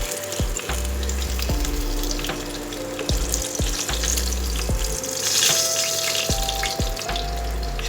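Pieces of katla fish finish frying in hot oil with a steady, close sizzle, broken by a few sharp clinks and scrapes as they are lifted out; no one speaks.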